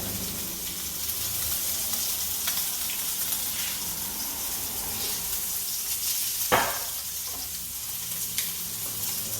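Steaks for steak au poivre sear in a hot pan with a constant close sizzle and crackle, broken by one brief louder spatter partway through.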